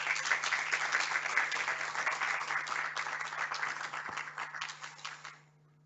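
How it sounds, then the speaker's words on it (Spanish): Audience applause at a thesis award ceremony, a dense patter of many hands clapping for several seconds before tapering off, with a steady low hum underneath. "Un aplauso, por favor."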